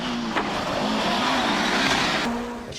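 A Lancia Delta Integrale turbocharged Group B-era rally car roars steadily at close range, its engine note holding a sustained drone with a brief pitch shift near the end, no talk.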